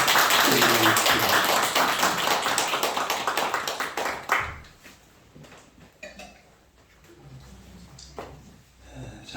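A church congregation applauds after a baptism, with dense clapping for about four seconds that then thins to scattered claps and light room noise.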